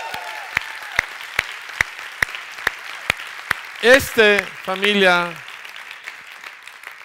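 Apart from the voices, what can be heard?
congregation applause in church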